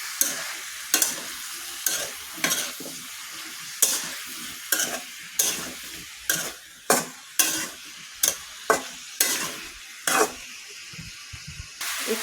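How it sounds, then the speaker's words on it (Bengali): Pumpkin with chilli and coriander powder stir-fried in a pan, giving a steady frying sizzle broken by about fifteen sharp spatula scrapes that come roughly once a second, each one loud and close. "এখন আমি কুমড়োটা ভালোভাবে কষিয়ে নেব"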